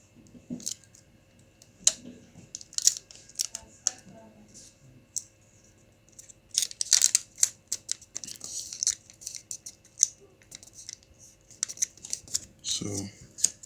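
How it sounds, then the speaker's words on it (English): Sellotape pulled and pressed onto a swollen laptop battery, producing close, quiet bursts of crinkly clicks and tearing sounds with short pauses between them. "Then you sellotape it."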